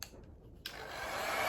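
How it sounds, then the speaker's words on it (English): A hair dryer blows on a watercolor painting, switching on partway through with a sudden steady whooshing roar that stays constant and close. "once this is dry, I'm going to use the hair dryer"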